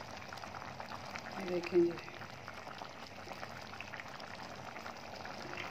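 A pot of chickpea rice pulao simmers with water bubbling at a soft, steady boil, while a person talks over the low bubbling throughout.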